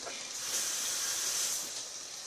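Noodles dropped into a hot stir-fry pan give off a steady, loud sizzling hiss that stays even for a couple of seconds, close by and with no voices over it.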